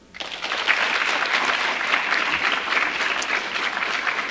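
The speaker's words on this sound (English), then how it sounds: "give your family a round of applause, because certainly they deserve it" Students at a National Honor Society induction ceremony applaud their families, a loud, sustained burst of clapping that swells quickly and holds steady for several seconds.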